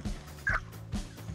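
A video game chicken clucks and squawks in short bursts, three quick calls close and distinct with no talking over them.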